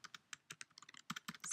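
Rapid keystrokes on a computer keyboard, an irregular run of close, crisp clicks with brief pauses, heard alone without any voices.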